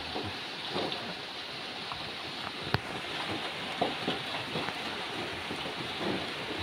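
Rain falls steadily at night on an open fishing platform at sea, a dense hiss with scattered drops and light knocks, close and even throughout, with no talking.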